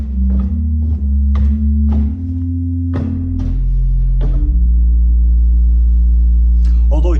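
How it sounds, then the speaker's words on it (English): A pipe organ pedal with a single 16-foot stop labelled Grand Bourdon holds deep, sustained notes alone, changing pitch every second or so before settling into one long, loud held tone. "there is only one stop on the pedal on this organ, and it is labelled as a Grand Borden"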